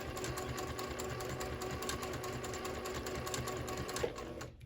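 A sewing machine runs a seam on a pillow, sewing back and forth in a steady, close, rapid mechanical whir that stops abruptly at the end.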